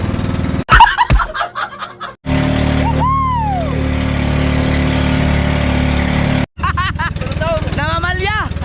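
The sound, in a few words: old boat engine misfiring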